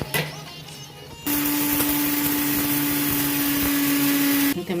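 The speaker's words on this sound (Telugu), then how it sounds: "ఇవన్నీ మిక్సీ కొట్టుకున్నాం." A mixer grinder grinding roasted spices into sambar powder, whirring loudly and steadily at close range for several seconds before it switches off, with no speech over it.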